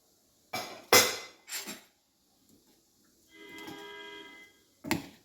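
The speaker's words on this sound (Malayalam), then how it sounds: "ഈ പനീരിടാം." Paneer pieces drop into shahi paneer gravy in a pan, with several sharp clinks and knocks of a utensil against the metal pan and a brief soft sizzle between them, close and without talk.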